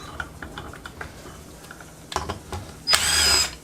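Power drill backing out small screws from a Can-Am Maverick X3 clutch, a short close whirring burst near the end after several light clicks and taps.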